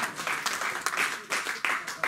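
A church congregation gives a short burst of applause to the Lord during a French-language sermon, with several clapping swells rising and falling over two seconds, fairly faint and distant.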